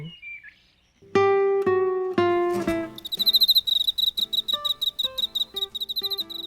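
Autumn crickets chirp in clear, pure-toned, evenly repeating pulses after a few sustained piano notes ring out, the chirping continuing steadily and fairly loud.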